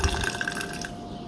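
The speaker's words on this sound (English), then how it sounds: "rice vinegar is the other one that I'm adding in" Natural, unseasoned rice vinegar pours into a pasta salad, a brief, close liquid trickle and splash that fades within about a second.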